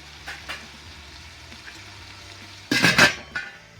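A goto mixture sautéing over medium heat, a quiet low simmering sizzle that suddenly flares into a loud crackling burst of frying near the end.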